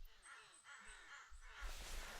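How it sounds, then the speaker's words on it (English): Crows and ravens call in the woodland of theHunter: Classic, a few harsh caws carrying faintly from a distance over low ambient noise. "I do hear, like, the crows and the ravens calling"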